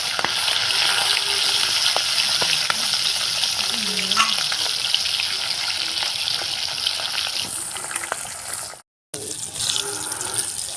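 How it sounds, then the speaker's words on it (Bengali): Loud, steady sizzling of a hilsa fish head frying in hot mustard oil, a dense crackle running nearly the whole time with a brief break near the end. "এবার ইলিশ মাছের মাথাটা ভেজে নেব"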